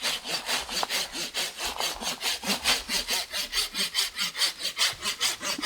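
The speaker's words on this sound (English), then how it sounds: "So when sawing it, I always hold the branch I'm sawing off." A hand saw cuts through a Japanese maple branch in a garden, with steady rhythmic back-and-forth rasping strokes, close and fairly loud, with no talk.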